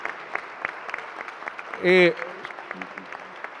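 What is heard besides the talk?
applause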